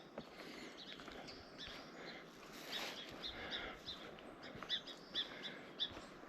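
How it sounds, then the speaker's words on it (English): Birds chirp and call in a forest at Camano Island State Park, faint and scattered over a soft ambient hush, with a few sharper high tweets toward the end. "And there's birds everywhere."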